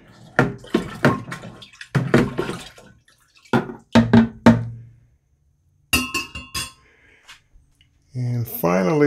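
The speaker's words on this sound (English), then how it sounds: "And we want to give that a stir." A lemon-lime wine mixture stirred in a one-gallon batch, with repeated clinking and watery sloshing strokes in short bursts, close and fairly loud, separated by brief pauses.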